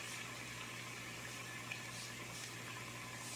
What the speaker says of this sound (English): my water's boiling